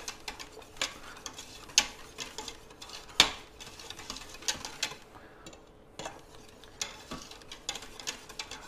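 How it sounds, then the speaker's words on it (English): Cheese sauce stirred in a pot on the stove, quiet irregular ticks and taps of a utensil against the pot over a faint background. "Continue stirring."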